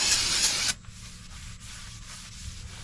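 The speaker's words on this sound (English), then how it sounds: "take brake cleaner and spray and clean all this out." A short, loud hiss of brake cleaner sprayed onto the rear air brakes of a Ford L8000 truck, lasting under a second, then a quieter lingering hiss and faint background noise.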